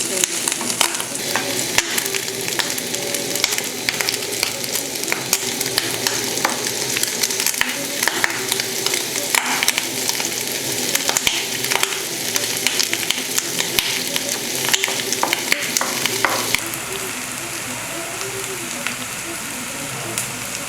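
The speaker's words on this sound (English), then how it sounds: "Mix the onions until they're golden brown." Onions fry with a steady, close sizzle in a pan while being stirred, the spoon scraping repeatedly throughout, with the frying easing slightly toward the end, cooked for a katogo of offals and bananas.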